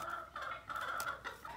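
Backyard hens cluck softly nearby in short, repeated bursts, a gentle busy chatter with no other sounds.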